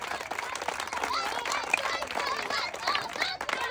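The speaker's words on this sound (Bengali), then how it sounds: "মোমেনা আপার জন্য সবাই একটা জোরে তালি হবে।" Spectators at a fun outdoor ball-in-water challenge give scattered applause, mixed with crowd chatter and a voice speaking over it at moderate volume.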